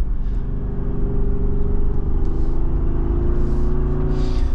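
A Jeep Wrangler Rubicon 392 V8 engine driving through turns, a loud, close, steady low rumble with rising revs and no talk over it.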